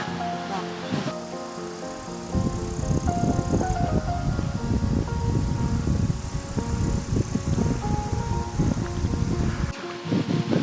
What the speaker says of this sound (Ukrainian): Щось вітер зривається.